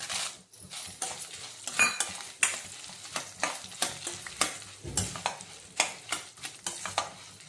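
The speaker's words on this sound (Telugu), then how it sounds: "కొంచెం వేగిన తర్వాత పోపు దినుసులంతా వేగుతున్నప్పుడు ఇలా కలపండి." Tempering spices and dried chillies fry in a pan as a spoon stirs them, giving steady sizzling broken by repeated close metallic scrapes against the pan in an irregular rhythm, with no talking.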